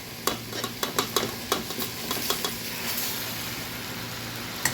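A spoon clatters and scrapes through macaroni with chicken in a pan, a quick burst of sharp stirring knocks early on, then a softer sizzling hiss with one last tap at the end.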